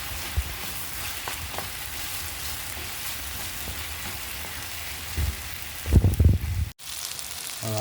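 A stew of liver and kidneys with tomato paste frying in a pot while being stirred, a soft continuous sizzle with a few louder scraping stirs near the end, no talk.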